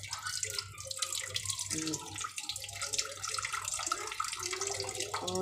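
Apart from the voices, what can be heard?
water trickling from a tap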